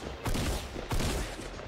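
Shotgun blasts in a video game, two loud booming shots about half a second apart, each followed by a sustained crackling decay.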